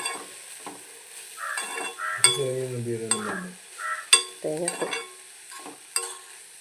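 Onion stalk thoran sizzles and frys in a pan while a utensil stirs and scrapes it in irregular strokes, close and fairly clear. A few faint clanks of metal on the pan are also heard.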